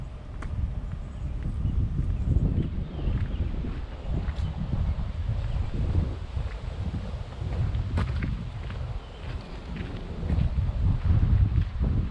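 Wind gusts through an open city park on a walk, a steady low rumbling roar against the microphone with rustling underneath and brief louder surges, no voices.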